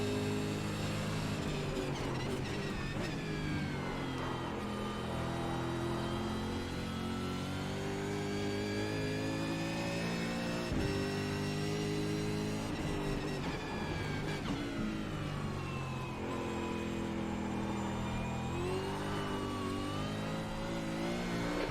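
A Mustang race car in the iRacing simulator revs steadily through a lap, its engine note rising and falling with gear changes and braking, loud and continuous without pause.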